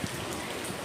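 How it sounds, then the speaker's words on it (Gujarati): Rain falling steadily in Navsari, heard from a rooftop terrace as a soft, even hiss of drops with no voices. "જો વરસાદ પાછો નવસારીમાં ચાલુ થઈ ગયો છે"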